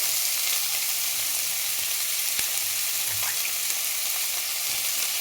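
Chopped onions and two green chilies sizzling steadily in hot oil in a pan, a continuous hissing fry with occasional soft pops and faint stirring, no voices.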